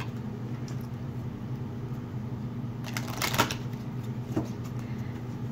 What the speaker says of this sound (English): I'm gonna pull a card from the Oracle of the Mermaids real quick.